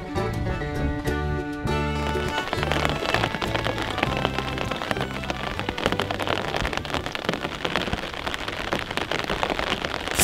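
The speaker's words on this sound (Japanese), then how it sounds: "雨も加わり満水です。" Steady rain falls on a flooded rice paddy, a dense, continuous hiss and patter of drops on water throughout, fairly loud, with a faint repeating low tone at the start.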